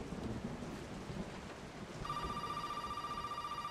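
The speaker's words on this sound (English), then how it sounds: "Oh, there's a phone. Ring-a-ding-ding." A telephone in the horror video game Resident Evil 7 starts ringing partway through, a steady electronic trill over loud rain and thunder-like storm ambience.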